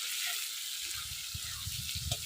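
Sliced onions sizzle in hot oil with cumin, whole dried chillies and whole garam masala, a soft steady hiss with light crackles building after a quiet start.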